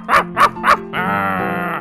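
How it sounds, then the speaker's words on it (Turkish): Three sharp dog barks ring out close and loud in the Minecraft video game, spaced evenly, then give way to a steady droning tone with no one talking. "Eyvah köpek, köpeği varmış bu evin."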